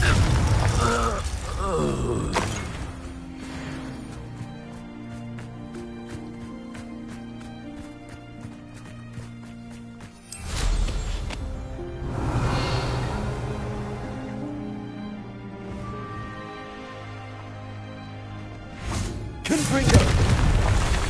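Confringo explosive spell blasts go off in the Hogwarts Legacy video game, loud booming bursts at the start, middle and end, with sustained rumbling and musical score between them.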